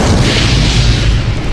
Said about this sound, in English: the man triggers the cell phone, which causes a huge explosion in the area